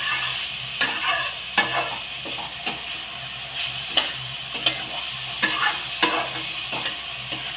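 Ash gourd and spices are stirred together in a pan over steady sizzling, with a utensil scraping and knocking against the metal at an irregular rhythm, close and clear.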